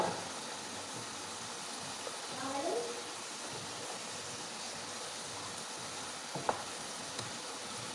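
Sliced potatoes frying in hot oil for homemade French fries give off a steady, soft sizzle that holds throughout, with a faint crackle or pop now and then.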